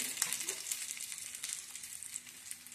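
Masala-coated pieces roast in a pan, giving a steady close sizzle and crackle with light spattering throughout, no voices.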